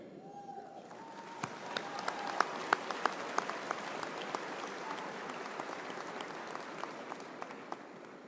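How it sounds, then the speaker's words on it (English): Long, sustained applause from a big crowd at a university commencement ceremony, with individual sharp claps standing out above a steady wash of clapping that continues without letting up. "Please join me in applauding them."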